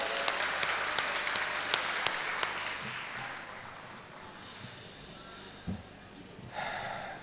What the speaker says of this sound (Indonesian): Saya minta tepuk tangan untuk anak-anak kita semuanya.